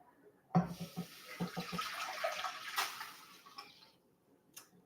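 Four cups of liquid poured into a pot while cooking autumn recipes, a splashing gush that begins suddenly, runs a few seconds and tapers off, with a faint final trickle.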